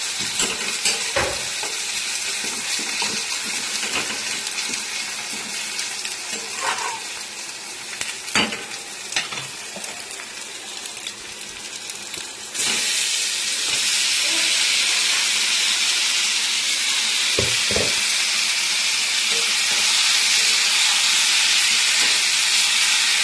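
Lote fish coated in turmeric and salt frying in hot oil, a steady sizzle that swells into a louder, dense hiss about midway, with a few clanks of utensils and no speech.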